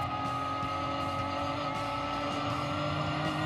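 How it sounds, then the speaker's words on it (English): Racing cars, including a Lotus and a Harper, sweep round a right-hand corner on a circuit, a loud, sustained blend of revving engines and overlapping passes with no break. "The Lotus and Harper follow Buerta round the right-hander and past Rod Schaefer"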